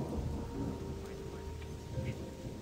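Rain falls with low rumbles of thunder in a Gothic 2 mod game, a steady hissing downpour with deep rolling thunder beneath, moderately loud and with no talking.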